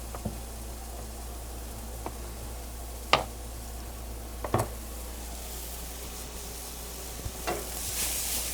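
Mushrooms frying in butter on a gas range give a faint, steady sizzle, with a few sharp pops and crackles breaking through the low hiss.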